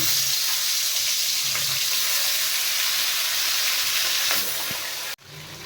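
Prawns frying in oil with a loud, close sizzle and crackle, occasional stirring scrapes, before the hiss suddenly drops away near the end.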